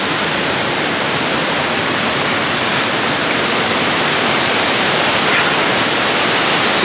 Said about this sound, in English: It's gonna be really loud up here because of the waterfall.